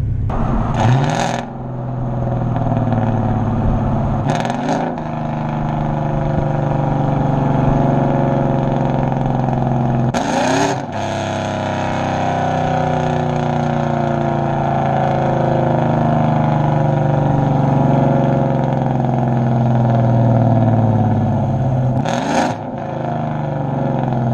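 A big-cam 2014 Chevrolet Silverado 4WD pickup runs steadily with a loud, lumpy idle throughout, its deep engine note broken by a few sharp bursts of noise.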